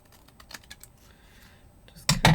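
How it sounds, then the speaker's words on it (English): Big scissors cutting paper: a few quiet snips at first, then two loud, close crunching cuts at the end, with no one talking. "Grab our big scissors."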